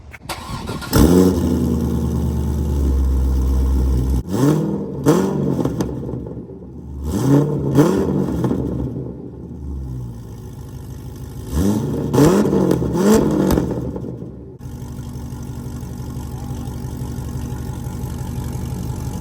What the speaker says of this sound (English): now the exhaust is all installed, so let's go ahead and start it up.